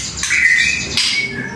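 Caged bird squawking close by, two harsh, raspy calls in quick succession over a faint background.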